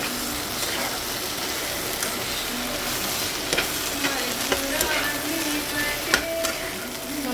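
Continuous frying sizzle of okra and onion in a pan with intermittent scrapes and clicks of a utensil stirring the contents, close and steady, no talking.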